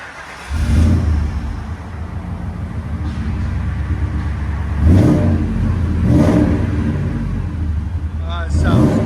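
From inside a Ford Excursion with a 5.4L V8 and Flowmaster exhaust, a deep engine rumble idles and then revs in several short bursts, with low boomy tones filling the cabin.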